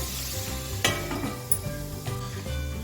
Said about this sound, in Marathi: आपण दोन मिनटं वाफवून घेऊया भाजी